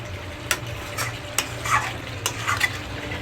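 Meat being stirred and sautéed in oil in a pan for a Bengali home-style curry, a steady low sizzle broken by a few sharp spatula scrapes and knocks against the pan.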